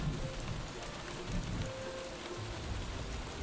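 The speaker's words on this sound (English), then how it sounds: "This rain is getting louder." Steady rain patters on surfaces close by, a dense even hiss with scattered drops and no voices.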